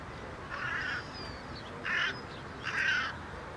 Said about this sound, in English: The botanical gardens in Paris attract several dozen crows because it's a good place for a free picnic